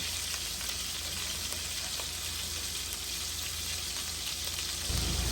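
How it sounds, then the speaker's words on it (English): Chunks of pot roast beef sear in olive oil in a hot pan for an Italian pot roast, producing a continuous, loud, close crackling sizzle with no voices over it. "That means it's searing nice on the bottom."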